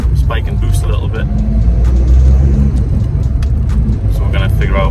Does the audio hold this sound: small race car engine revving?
yes